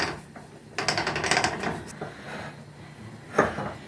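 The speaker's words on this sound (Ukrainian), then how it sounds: "наливаємо і закриваємо під ключ" Home-canned jar of fermented cucumbers being closed with a hand canning key, giving a few metallic clicks and scraping turns of the lid at close range, with a sharp final clunk near the end.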